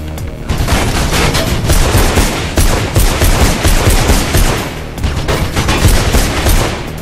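Dense, sustained gunfire from a mall shootout in the video game Mirror's Edge, loud and continuous bursts of rapid shots with no pauses.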